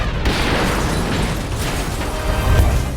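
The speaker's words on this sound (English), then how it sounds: "trying to dodge exploding barrels falling from behind the backloads" Barrels exploding in the racing video game Split/Second, a dense continuous roar of blasts and crashing debris with a heavier boom near the end, loud and close throughout.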